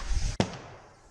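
An airsoft grenade goes off in a tree-filled field as a single sharp, loud pop and burst, which fades quickly into quiet background.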